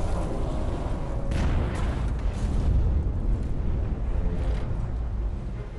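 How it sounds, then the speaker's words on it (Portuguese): A World War II submarine torpedo strikes a ship in November 1943 and explodes, a heavy rumbling blast with bursts of low boom and crackling debris that stays loud throughout, then fades slightly at the end. "Nesse momento, o torpedo do Henke atinge o alvo."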